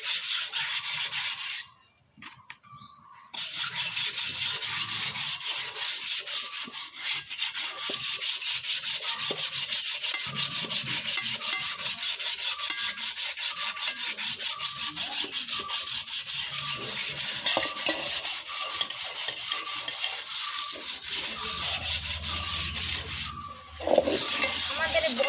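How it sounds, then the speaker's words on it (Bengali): An old, long-used kadai wok being scrubbed by hand, a close, continuous rasping scour that runs steadily on and on, with a short lull near the start and another brief dip near the end. "বড় কড়াই না, যতই মাজি না কেন বন্ধুরা, তাও পরিষ্কার হতে চায় না"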